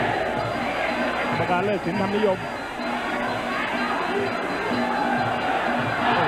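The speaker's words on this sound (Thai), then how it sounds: "พอแรมโบ้ทำได้นี่เสียงเชียร์กระหึ่มเลยทีเดียว" A large crowd at a Muay Thai fight roars in a sustained, loud wall of cheering and shouting, with a commentator talking rapidly over it throughout.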